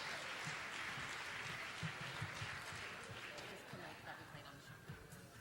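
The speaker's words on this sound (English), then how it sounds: "Round of applause for Laura, ladies and gentlemen." Applause from an audience at a 2018 awards ceremony, a steady crowd clapping heard faint and somewhat distant, with low voices murmuring underneath.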